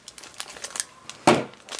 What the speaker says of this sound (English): I'm using the scissors on this pack.